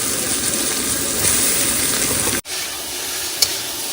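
Marinated soy chunks hit hot oil and fry with a loud, continuous sizzle, which drops away abruptly partway through and returns quieter, with a brief clink near the end.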